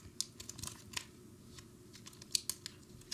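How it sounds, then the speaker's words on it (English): Faint crinkling and sharp tearing of packaging as an Apple Watch Ultra box is unwrapped, a few scattered close crackles and snips over a quiet room. "let's go ahead and unwrap it"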